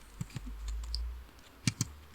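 A few sparse, soft key clicks on a computer keyboard while text is entered into a PowerPoint slide, two small pairs of taps separated by a short quiet pause, with no speech.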